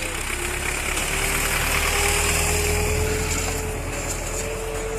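MTZ-50 tractor engine running in sixth gear, a loud, steady diesel chug with a rough knocking rumble and faint whine, continuous and close, no talk over it.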